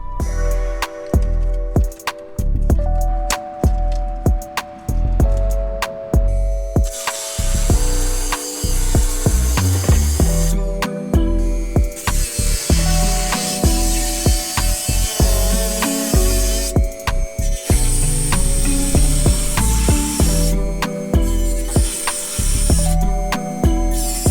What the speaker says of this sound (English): we've pretty much cut this section out where the rust was at